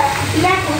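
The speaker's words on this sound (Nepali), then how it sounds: "मैले करेला फ्राई गर्दैछु" Bitter gourd fries in a pan with a continuous close sizzle and bursts of stirring, with no talk over it.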